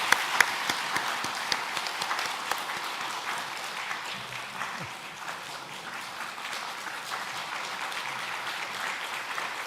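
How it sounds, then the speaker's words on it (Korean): Church congregation applauding together during a pastor's installation thanksgiving service, as flowers are presented to the pastor and his wife; steady, dense clapping fills the room for nearly ten seconds, with a few sharper claps standing out early. "우리 다 같이 박수하시겠습니다."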